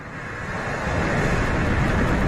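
An Atlas V 451 rocket's engines ignite and build into a loud, broad rumbling roar at liftoff, swelling steadily and heard at a distance with no voices.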